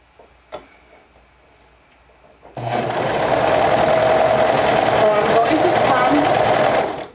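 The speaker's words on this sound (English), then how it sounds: "So with a 1/2 inch seam allowance, we're going to start sewing." A sewing machine stitches a half-inch seam on a skirt, starting after a few quiet seconds and then running in a steady, fast, close mechanical whir with rhythmic ticking until it stops near the end.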